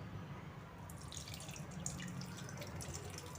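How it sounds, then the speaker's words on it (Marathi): Warm water is poured into chocolate cake batter, giving a faint, soft trickling and dripping heard alone at low volume. "कोमट पाणी यामध्ये ॲड करायचे"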